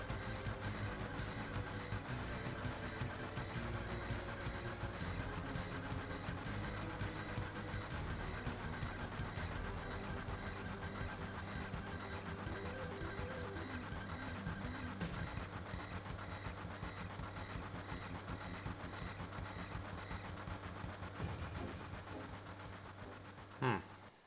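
Train rattling in the video game Final Fantasy VII, a steady mechanical clatter and rumble that runs continuously at low level before cutting off near the end.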